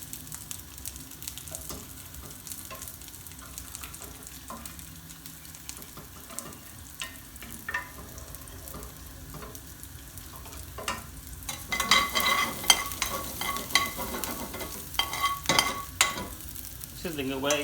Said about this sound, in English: Sizzling away, we're going to add our